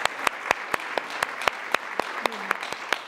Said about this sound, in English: a round of applause for Siobhan